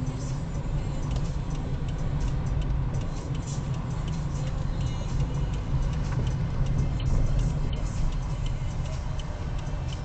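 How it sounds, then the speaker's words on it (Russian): Steady rhythmic clicking of a car turn signal ticks along under a constant engine and road hum inside the vehicle. "Включай поворотник."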